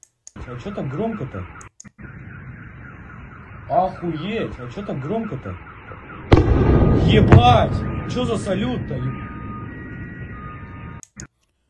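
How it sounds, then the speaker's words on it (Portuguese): Car alarms wail and chirp in the distance while people talk nearby, then a sudden loud explosion from an attack in the Belgorod region erupts with the alarms still sounding afterward. "Já estavam os alarmes dos carros disparados, e aí depois explodiu novamente."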